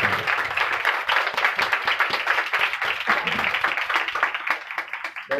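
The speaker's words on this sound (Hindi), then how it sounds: "खुदावंद के लिए तालियां बजाएं" Church congregation clapping together in worship, a loud, close, rhythmic beat of many hands keeping a steady, fast tempo throughout.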